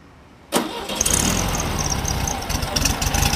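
A 1963 Volkswagen Beetle coupe with a roughly 40-horsepower engine cranks and catches after a brief quiet moment, then settles into a steady, close-up idle with a light whistle from the tailpipes.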